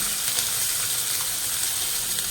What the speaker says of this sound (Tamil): இப்போ ஆயில் ஊற்றிக்கலாம்